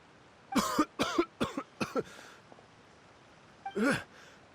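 A Genshin Impact character coughs after choking on water: a quick run of five harsh coughs, then a pause and one more heavy cough, close and clear against quiet background.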